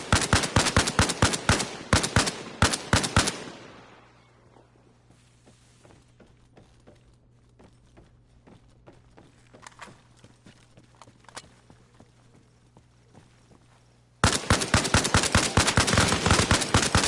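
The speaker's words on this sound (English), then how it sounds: "That's the machine gunner." Rapid machine gun bursts from the video game Arma Reforger rattle loud and close, pause for a stretch of quieter scattered shots and ambience, then resume in a long sustained burst.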